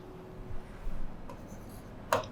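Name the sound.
writing an amount on paper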